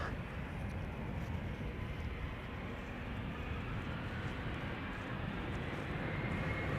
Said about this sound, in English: about to take off in a few moments, going to Aberdeen, and it's an Embraer 190 KLM flight 1445